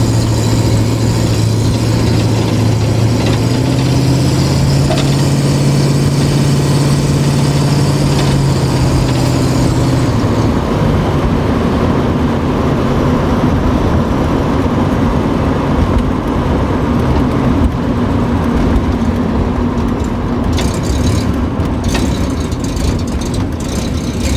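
A 1969 Ford Mustang engine running out of gas holds a loud, close, steady rumble with a wavering tone that shifts and drops as it stumbles, the low drone continuing unevenly throughout.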